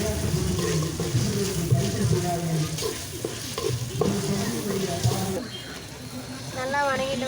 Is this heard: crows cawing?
no